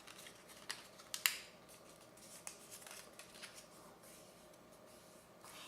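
A scored paper card piece being folded back while making a fold-open flip card, with a few soft crisp creases and sharp paper snaps, close and faint, no talking.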